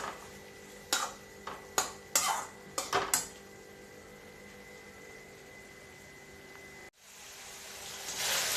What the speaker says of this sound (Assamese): চিকেন দি এইখিনি মিক্স কৰিম ইয়াৰ লগত।